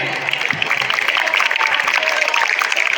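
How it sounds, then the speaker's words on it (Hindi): A large audience at a school annual function claps steadily for a legislator on stage, a thick, continuous roar of hands with crowd noise and some voices mixed in. "तालियां रुकनी नहीं चाहिए"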